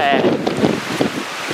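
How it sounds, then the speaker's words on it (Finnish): Strong wind buffeting the microphone outdoors on a slippery winter day, a loud continuous rumbling gust with brief muffled noises in it and no clear speech. "Ja jos tää nyt vaan kuuluu, täällä tuulee."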